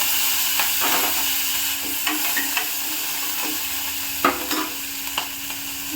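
Spices and asafoetida crackle and sizzle in hot oil, with steady frying hiss and a few sharp pops, close and fairly loud, no voices.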